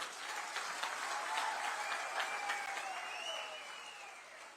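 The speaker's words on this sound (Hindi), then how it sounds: "मैं तालियों की गड़गड़ाहट से पहचान लेता हूं" Thunderous applause from a crowd at an outdoor political public meeting in Kathua, Jammu, a dense sustained roar of clapping, heard at some distance and fading slightly toward the end, with a few raised voices over it.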